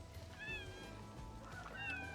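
Cats in a Georgian village give a couple of short meows, faint and a little distant over low background noise, with no talk.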